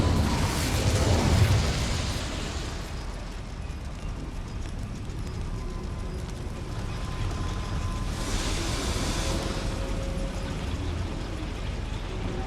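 A fire spell cast in the Hogwarts Legacy game inside a goblin mine bursts out as a loud whooshing flare at the start, fading into a low rumble with a second brief flare later, no talk.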